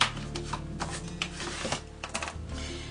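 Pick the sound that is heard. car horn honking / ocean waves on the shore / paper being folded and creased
paper being folded and creased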